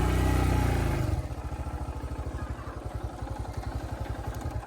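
A motorcycle engine runs while stuck in mud on a road near Nepalgunj, giving a steady rapid low-pitched chug after a brief louder rev at the start, close and alone.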